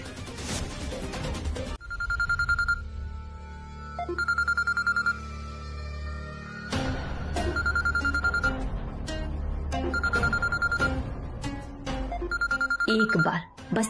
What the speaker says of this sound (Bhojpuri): फोन उठावा रजो चाची, फोन उठौला में का दिक्कत बा?